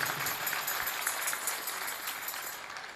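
Applause from a gathered crowd on a pilgrimage walk to Khatu Shyam, a steady, fairly loud wash of clapping that holds for the whole stretch and eases slightly toward the end.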